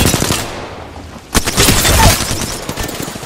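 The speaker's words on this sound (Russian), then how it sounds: "Меня стреляют!" Gunfire in Apex Legends erupts in loud rapid automatic bursts and cracking shots at close range, with a heavy boom midway and continued shooting afterward.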